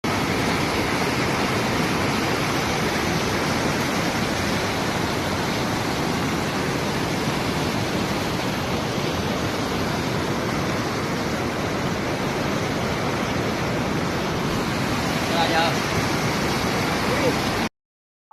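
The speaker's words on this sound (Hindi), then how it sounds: "खैरना से आए ताजा वीडियो में भी नदी का रौद्र रूप साफ देखा जा सकता है" A flooded river in Uttarakhand and Himachal rages at full force, a loud dense roar of rushing water that holds steady and unbroken for the whole stretch, with no other sounds rising above it.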